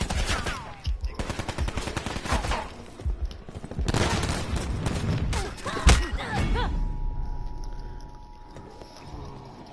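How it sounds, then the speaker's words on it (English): Video game gunfire, rapid bursts of automatic shots crackling in dense volleys with heavy thuds and clatter, easing off toward the end as a steady tone lingers. "I'm getting shot at."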